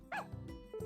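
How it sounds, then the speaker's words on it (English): A short burst of yipping barks from stray dogs in the farming game Story of Seasons: A Wonderful Life, followed by a faint whimper. "Guess a couple stray dogs settled in here."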